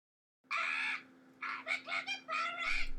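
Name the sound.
pet parrot squawking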